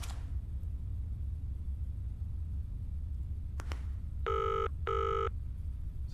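A mobile phone rings in the horror video game Zoochosis: two bright electronic ring bursts, each about half a second, sound clearly over a low rumbling ambience after a brief click, with no talking.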